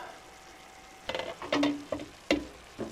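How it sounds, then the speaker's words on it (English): Peppers and onions frying in a pan for chicken jalfrezi curry, with a soft sizzle underneath several sharp stirring clacks and scrapes of a utensil against the pan, close and fairly quiet, with no talking. "we're going to fry that until the peppers and the onions go a little bit soft"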